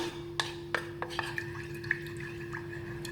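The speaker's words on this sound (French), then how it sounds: "on va tout d'abord commencer par diluer la maïzena dans un verre d'eau, comme ça." A spoon stirs cornstarch into a glass of water, making a handful of sharp clinks against the glass over a faint liquid swirl, close and quiet, with a steady low hum behind and no talking.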